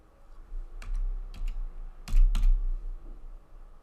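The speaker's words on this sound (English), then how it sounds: "So I'm just typing in" A handful of sharp key clicks on a computer keyboard, tapped in small irregular bursts while entering a number into jewelry design software, with no talk over them.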